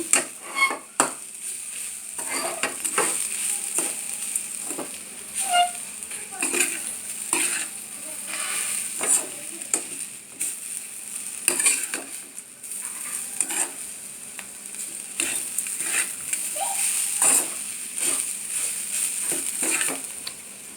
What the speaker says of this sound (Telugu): కొబ్బరి ఇలా వేయించుకోవాలి